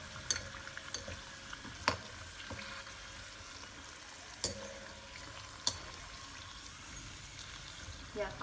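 Kansar gujiya frying in hot oil for a Diwali snack, a soft steady sizzle with faint trickling and a few sharp utensil clicks, quiet and close.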